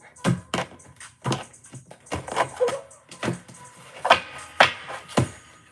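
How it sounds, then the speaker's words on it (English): Oracle cards shuffled one-handed during a tarot-style reading, giving a string of sharp, close tapping and riffling clicks in uneven bursts, with no talking. "Gotta shuffle like this because I'm doing this one-handed"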